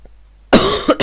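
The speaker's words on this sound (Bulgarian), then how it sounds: "Извинете, че кашлям" A single loud, close cough bursts out after a brief quiet, followed by a short second huff.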